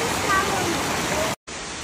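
A waterfall pours out a dense, steady roar of rushing water that fills the whole scene, broken by a brief cut to silence near the end.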